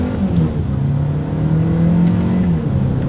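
A 2022 Hyundai Elantra N-Line with a dual-clutch gearbox accelerates hard from a rolling start on paddle shifters, its engine droning steadily and loudly close up, pitch climbing and dipping as it pulls through the gears.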